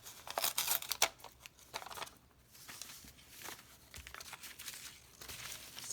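A paper cut-out figure is pulled apart for a collage, with quiet, close crinkling, rustling and snipping sounds in irregular bursts, busier at the start and sparser later.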